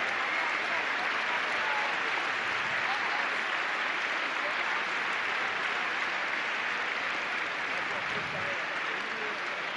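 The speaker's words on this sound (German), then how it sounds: "Ja, wenn die so klatschen" Sustained, dense applause from a large audience at a Green party special convention in Berlin, continuous and even for the whole stretch with no talk on top.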